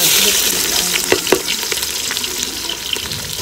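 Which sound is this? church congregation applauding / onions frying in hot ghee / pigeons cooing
onions frying in hot ghee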